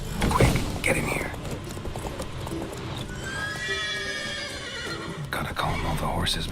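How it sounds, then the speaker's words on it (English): Horses neigh and whinny in The Witcher 3, with hoof clip-clops, loud and close, overlapping with game ambience and some voices. "Gotta calm all the horses before they wake the guards."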